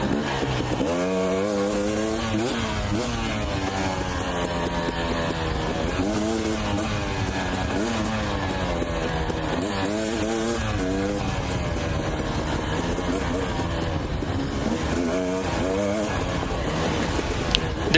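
A dirt bike engine revs and shifts continuously on a mountain trail in Idaho, loud and close, its pitch rising and falling as the rider keeps a fast pace.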